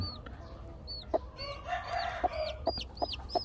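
Chickens clucking close by, a hen's repeated clucks mixed with high chirping peeps from chicks at a breeding farm, against a steady low background hum.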